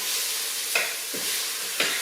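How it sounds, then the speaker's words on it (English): Beef browns in a hot skillet for stew, making a continuous close sizzle broken by three short scraping stirs. "Stir our meat over here."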